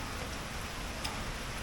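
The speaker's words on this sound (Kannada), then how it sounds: "ಹಿಂಗದ ನೋಡ್ರಿ ಮಳೆ." Steady rain falls in an even, faint hiss with soft patter, continuous and without talk.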